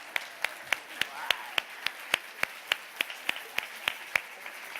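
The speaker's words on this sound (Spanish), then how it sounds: "un aplauso para vosotros" A theatre audience claps in a steady, even rhythm after a magic trick, with about sixteen sharp, evenly spaced claps over a soft wash of crowd noise.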